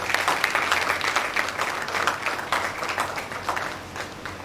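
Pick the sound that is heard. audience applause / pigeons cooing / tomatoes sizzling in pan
audience applause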